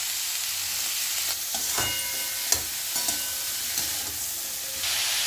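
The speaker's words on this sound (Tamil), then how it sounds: "இப்போ வெங்காயத்தை போட்டு வதக்கலாம்." Sliced snake gourd and onions sauté in a pan with salt and turmeric, giving a steady close sizzle broken by scraping stirs and occasional clinks of the spoon.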